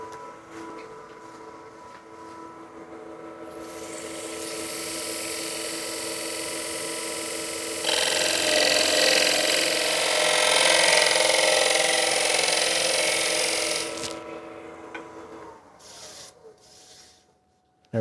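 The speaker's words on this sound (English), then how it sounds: "I think we're ready for a quick sharpening." A woodturning tool is sharpened on a grinder, a steady abrasive grinding hiss that swells louder partway through and then drops away as the tool lifts off the wheel, close and alone.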